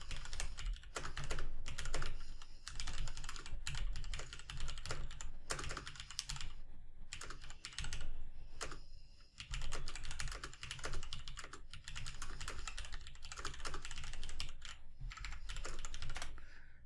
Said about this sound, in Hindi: और अगर मान लीजिए यहाँ पे मैं अगर कुछ टाइपिंग शुरू करता हूँ